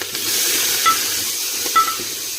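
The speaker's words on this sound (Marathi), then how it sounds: "भाजून घेऊया, चांगलं फ्राय होऊ देऊ" Four or five green chilies fry with cumin in hot oil, a loud, close, continuous sizzle broken by two short clinks of a spoon against the pan, with no voices.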